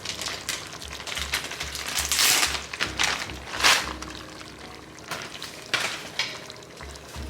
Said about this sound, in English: Give it a stir, stir, stir, and just let the cheese melt up